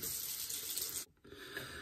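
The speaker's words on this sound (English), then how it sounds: "I wanted to run the water till it got a little bit hotter" Hot water runs steadily from a tap for cleaning a shaving brush, a broad hissing gush that briefly cuts out near the middle before the flow resumes, close and alone with no talk.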